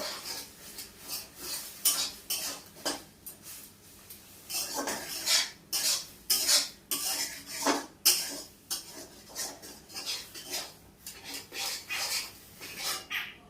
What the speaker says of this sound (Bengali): ভালো করে নেড়ে চেড়ে দিচ্ছি।